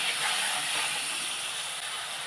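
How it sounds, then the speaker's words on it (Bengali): Spice paste with turmeric sizzles in a pan just after a splash of water is added, a steady loud broadband hiss that holds without pause throughout. "সামান্য একটু মশলায় জল দিয়ে দিলাম।"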